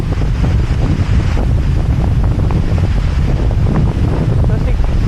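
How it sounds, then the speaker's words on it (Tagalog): Strong wind roaring and buffeting the microphone continuously at Hulugan Falls in Laguna, with a low rumble that may include surf. "Sobrang lakas ang hangin."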